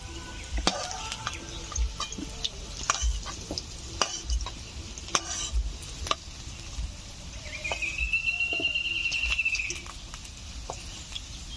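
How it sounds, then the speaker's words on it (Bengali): Potatoes fry in oil until reddish, a continuous low sizzle broken by sharp utensil clinks and stirring knocks, with a brief thin whine rising near the end. "আলুগুলো লালচে করে ভেজে নিয়েছি"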